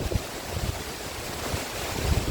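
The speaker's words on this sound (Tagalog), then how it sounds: "ang lakas ang hangin" Strong winds from Typhoon Kristine in Bohol rush and buffet the microphone in low, rumbling gusts, swelling toward the end, with no speech.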